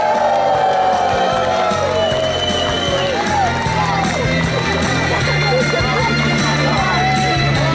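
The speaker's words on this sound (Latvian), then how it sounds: "Vēlreiz ar skaļiem aplausiem un ovācijām sveicam visus gājiena" Loud crowd at an outdoor parade event cheering and applauding the procession participants, sustained roar with whoops, while an amplified voice speaks over it.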